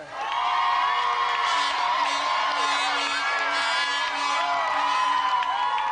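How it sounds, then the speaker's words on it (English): A television game-show studio audience cheers loudly, a sustained wall of whoops, yells and shouting with applause underneath that holds steady throughout. "let's have another round of applause for our champion challenger, Gavin Hansford."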